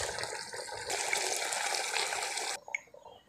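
Rice going into boiling water for home-made chicken biryani, a steady rushing, bubbling gush of water that cuts off abruptly near the end, leaving a few faint drips and clinks.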